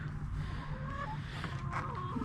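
Soft clucking and peeping of small young chickens, close and continuous over a low background hum, no talk.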